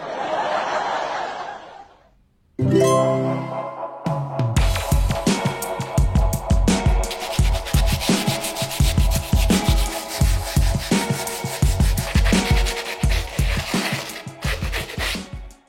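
A resin pot is sanded by hand in rapid, rhythmic rubbing strokes, loud and close, following a brief hiss and a short pause at the start.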